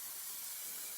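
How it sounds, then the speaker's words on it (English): A Winsor & Newton fixative aerosol sprays onto a charcoal portrait, a steady, bright, close hiss that runs without a break for a moment, with no voices. "and then I'm just going to spray everything"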